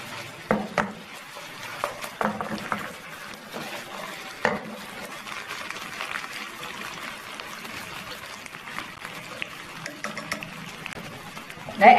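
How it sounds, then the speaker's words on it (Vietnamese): Ragu sauce being stir-fried in a pan with fried chicken pieces added, giving soft sizzling and intermittent scraping stir strokes throughout, fairly quiet and without voices. "mình xào cái sốt này cho nó thơm lên rồi thì cho thịt gà đã chiên vào đây"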